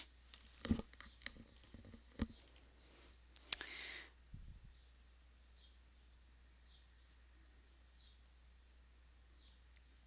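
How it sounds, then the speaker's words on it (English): Keyboard keys clicked while typing into a chat during a Magic: The Gathering Modern Masters 2015 online draft; a few scattered clicks near the start, then mostly quiet with faint ticks. "Let's see if I can type."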